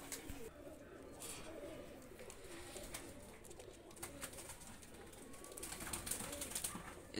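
Several pairs of quality running pigeons keep up a continuous low cooing up close, joined by scattered clicks and shuffling sounds, with faint voices briefly in the background.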